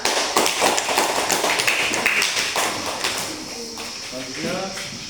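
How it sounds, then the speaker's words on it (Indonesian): Primary school pupils clap for a classmate in a classroom, a brisk burst of hand claps that fades as children's voices take over. "Tepuk tangan untuk Juan dan nomor 1."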